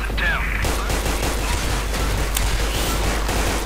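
Rapid bursts of gunfire crackle continuously with a dull grenade explosion rumbling underneath, loud and dense throughout, in Special Force 2.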